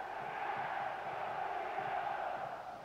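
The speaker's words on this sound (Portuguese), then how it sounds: "E a torcida já solta o grito." Football crowd in a São Paulo stadium shouting after a goal, a steady distant roar of many voices sustained throughout, fairly faint and even.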